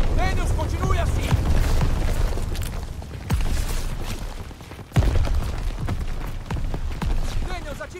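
Heavy explosions from shot ammo boxes in a Call of Duty WWII trench battle, two sharp booms standing out amid constant gunfire and combat noise, with voices speaking over the action.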